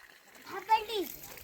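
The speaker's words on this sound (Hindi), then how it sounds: "अब ढंग से डालो पानी, हाँ ऊपर करके, ऊपर ऊपर जैसे पहले डाल रहे थे।" A child pours water outdoors in a hillside village, a short splash under a voice and an adult talking close by.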